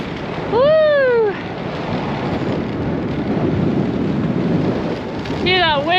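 Strong headwind roaring across the microphone during a downhill bicycle descent, a continuous broadband rush filling the whole clip, with brief whooping vocal sounds at the start and end.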